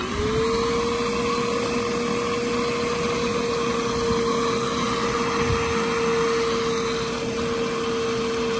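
Vacuum cleaner running during routine maintenance on a water-damaged service call: a loud, steady motor drone with a rising whine at the start, then an even, continuous hum, no speech.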